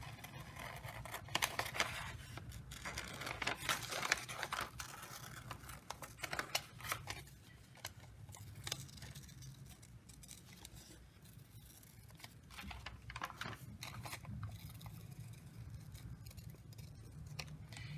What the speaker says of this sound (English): you're going to use your regular household scissors and you're going to cut the item out right on the line